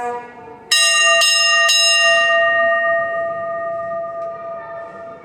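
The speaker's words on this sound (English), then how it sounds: "Got your bell there as well, which will ring in a second." Bell on a restored 1935 Leyland Tigress fire engine rings three quick, loud strikes close by, each leaving a long, clear metallic ring that fades slowly over several seconds.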